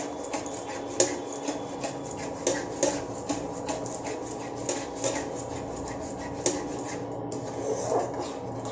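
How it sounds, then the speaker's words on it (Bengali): Semolina being stirred in a pan on an induction cooktop, a steady scraping and rubbing with soft regular strokes, close and fairly quiet, with no voices. "এরকম নেড়ে যেতে হবে, সুজিটাকে একদম নেড়ে যেতে হবে।"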